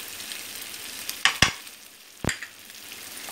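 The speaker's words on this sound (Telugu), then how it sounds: "ఈ విధంగా మటన్ వేగుతున్నప్పుడు" Mutton fries in a pan for gongura mutton curry with a low constant sizzle, broken by three sharp close scraping knocks from stirring, two in quick succession and one a moment later.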